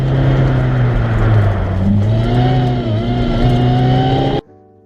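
A 2007 Lotus Elise SC supercharged sports car drives steadily nearby, its engine note holding a loud, continuous drone with slight pitch swings before it cuts off abruptly near the end.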